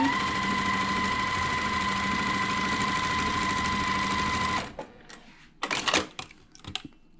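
A sewing machine stitches string-pieced quilt blocks on a foundation, a fast steady close whirring hum for about four and a half seconds, then stopping and leaving scattered handling clicks and rustles.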